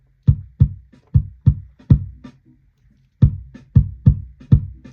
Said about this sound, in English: You can hear you're getting a bit of snare there, and it's also a bit clickier.